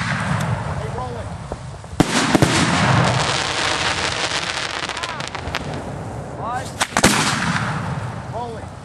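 Fireworks launched by hand in Simsbury, Connecticut: a few loud bangs and crackling bursts mixed with whistling rockets, over a steady background rumble, with people talking nearby.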